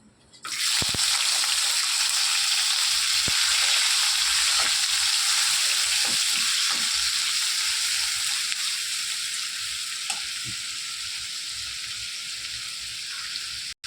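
Onions hitting hot oil in a pan, already spiced with cumin and bay leaf, give a loud, steady, close sizzle that holds on alone with no talk and eases off slightly near the end.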